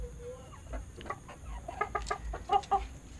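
Four-month-old Elba chickens, one rooster and four hens, cluck in an enclosed coop, with a series of short, fairly soft clucks and calls in irregular bursts against a quiet background.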